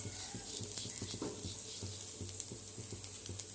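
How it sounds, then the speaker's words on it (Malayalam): Grated coconut roasts in a hot pan for a roasted-coconut chicken curry, with a gentle sizzle beneath regular, rhythmic scraping strokes of a spoon stirring close by. "തേങ്ങ നല്ല വറക്കാം കേട്ടോ"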